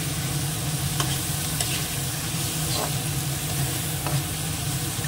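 Chopped tomato fries in oil in a pan with steady close sizzling, while a spatula scrapes and stirs at irregular moments through the continuous hiss.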